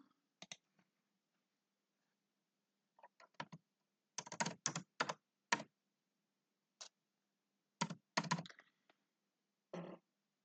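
Computer keyboard typing in short, sparse clusters of close, crisp key clicks separated by quiet pauses.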